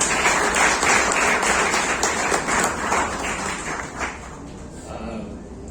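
Crowd applause at a medal winners' felicitation ceremony for the 36th National Games in Delhi, dense and steady clapping from many hands, continuing for several seconds before thinning slightly toward the end.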